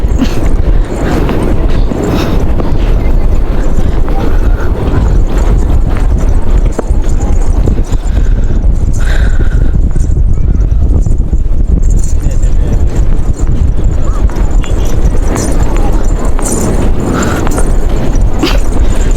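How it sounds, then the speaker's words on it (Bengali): Horse hooves clip-clop steadily through a beach horse ride at Inani Beach, Cox's Bazar, a rhythmic thudding gait that runs throughout under voices talking nearby and constant wind and surf noise. "আমরা এখন আছি ঘোড়ার রাইডে"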